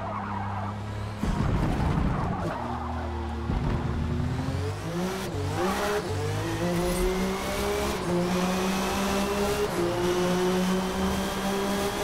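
A race prototype car in the Forza Motorsport video game revs hard, its engine note climbing and dropping through gear changes as it accelerates, loud and steady throughout, with no talking.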